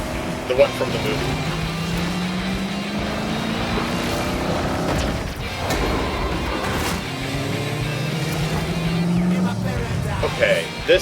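Race cars in the Forza Horizon Hot Wheels video game drive with a steady engine drone and rising whines, under people talking throughout.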